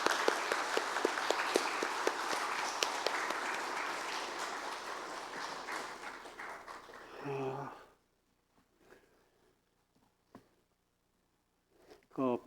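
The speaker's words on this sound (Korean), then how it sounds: "큰 박수로" A church congregation at a missionary commissioning service applauds warmly for several seconds, then the clapping fades to near silence with a few faint rustles and a voice at the edges.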